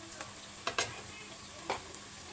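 Ground cumin paste going into onions frying in oil: a quiet, even sizzle with a few soft scraping knocks of a spoon against the pan, no talk.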